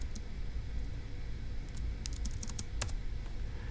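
Quick bursts of keystrokes on a computer keyboard, faint and close, with irregular clicks clustered toward the middle of a quiet room.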